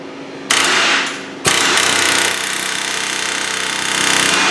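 A chisel is hammered against a wheel bearing on a Buick Enclave during a repair, giving a continuous loud, rapid metallic pounding that starts abruptly, breaks off briefly, then resumes and carries on steadily.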